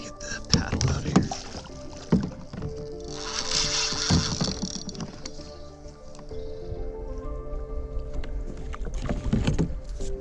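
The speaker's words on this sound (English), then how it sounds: "I need to get the paddle out of here." A paddle is pulled free inside a boat while fishing for alligator gar, producing hollow knocks, scrapes and wet squishy clunks, close and fairly loud, spread unevenly across the moment.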